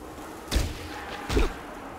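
Two heavy thuds of a baseball bat striking a raider in the Fallout Tactics video game, about a second apart, dull and fairly quiet over a low background.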